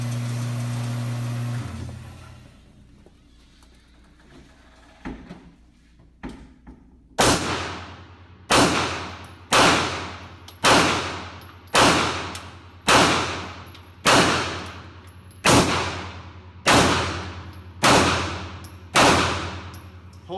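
A CZ P-07 pistol fired at an outdoor shooting range with Federal 115-grain ammunition: after a quiet lead-in, a rapid string of about eleven loud, sharp shots rings out at a fast, even pace, each with a short decaying echo.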